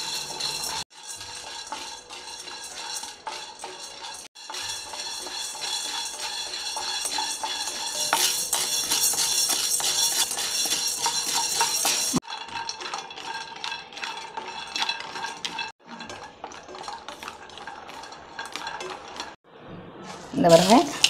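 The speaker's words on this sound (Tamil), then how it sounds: "நல்லா பக்குவமாக சிம்மில் வச்சு வறுத்து எடுத்துக்கோங்க" Ingredients dry-roasting in a pan over low heat, with steady scraping and stirring, utensil clinks against the pan and a soft background hiss running throughout, louder in the middle stretch.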